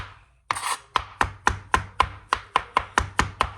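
Vegetables are chopped for a vegetarian omelet: a knife strikes a cutting board about a dozen times in a quick, even rhythm, each chop sharp and close, with no talking.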